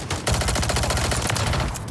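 Rapid automatic fire from a Striker 9 submachine gun in a first-person shooter video game, a dense, loud, unbroken stream of shots lasting about two seconds with no pauses.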